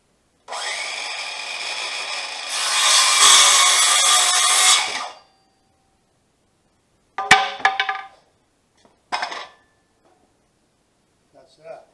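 A hand saw cuts through a piece of hardwood being shaped into a spindle bushing for a 1954 brake adjustment, a steady rasping burst of strokes lasting several seconds, followed by a few brief knocks and handling clatters.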